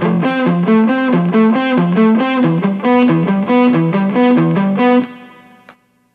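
A distorted electric guitar plays harmonized triad shapes that step downward in a steady, even rhythm, loud and alone, before the final chord rings out and fades to silence.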